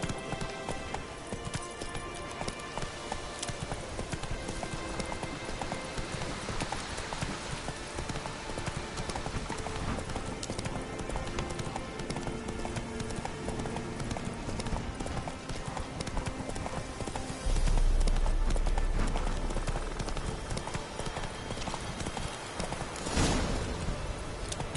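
A horse gallops in The Witcher 3, with rapid, continuous hoofbeats up close against a game soundscape and a brief swell of louder noise late on.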